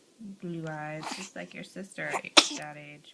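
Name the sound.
sneeze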